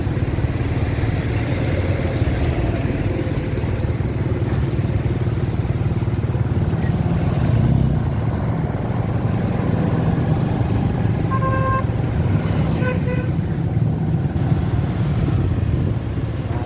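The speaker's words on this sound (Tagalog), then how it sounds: "napakatindi na ng traffic" Heavy road traffic in a flooded town at night, with a steady, loud, dense roar of engines and passing vehicles, motorcycles among them, and a faint tonal horn-like sound near the middle.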